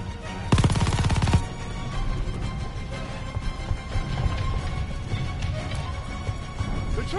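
Rapid machine-gun burst in Call of Duty Vanguard, loud and close for about a second, followed by scattered distant shots and rumbling battle noise.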